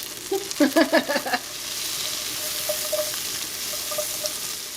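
Green beans tossed into a hot pan of melted fat set off a dense crackling sizzle with a few sharp stirring clinks at first, then an even, moderate frying hiss.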